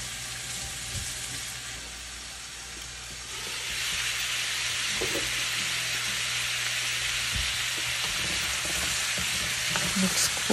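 Squash and green beans cooking in a pan for ginataang kalabasa with shrimp, stirred steadily under a continuous loud sizzle and hiss of frying, with brief utensil scrapes and knocks scattered through.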